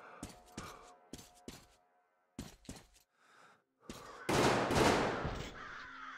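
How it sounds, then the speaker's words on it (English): Several loud gunshots ring out in separated bursts with pauses between, followed by a longer, rumbling blast of gunfire, in the video game Metro Exodus. "Gunshots."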